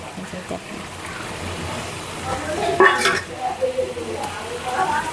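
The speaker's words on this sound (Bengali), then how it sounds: "আমি এখন দিয়ে দিচ্ছি আলুটা ভাজা" Potatoes sizzle steadily as they fry in a pan on a home kitchen stove, with occasional stirring scrapes, a brighter crackle near the middle and faint voices in the background.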